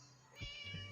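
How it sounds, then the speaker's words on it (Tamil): A cat locked up in a hall in Scary Teacher 3D gives two short, faint meows close together, heard alone over quiet game ambience. "அந்த மண்டபம் வந்து பார்த்தீங்கன்னா ஒரு பூனையை அடைச்சி வச்சுருக்குது பார்த்தீங்களா"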